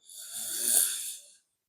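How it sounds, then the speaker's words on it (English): A single slow inhale taken during a yoga stretch, close and breathy, swelling and then fading, with no talking. "Inhale."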